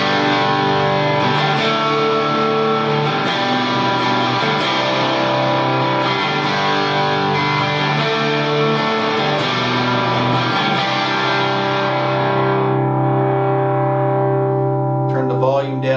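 An Epiphone Les Paul electric guitar played through distortion on the bridge pickup, sustained overdriven chords ringing loud and dense, with a few plucked strikes and a clear decay toward the end.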